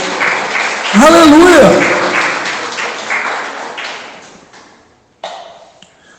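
Church congregation applauding during a worship service, dense clapping with a voice shouting over it, fading out before a brief burst of talk near the end.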